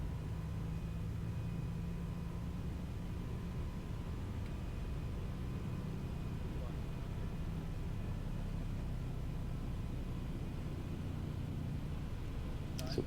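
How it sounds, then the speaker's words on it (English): Airbus A320 jet engines on a takeoff roll, heard as a steady, broadband roar with a low rumble and a faint tonal whine, continuous and unchanging in level throughout. "We're now on a takeoff roll, passing 100 knots and reaching our rotation speed to lift the nose toward the sky."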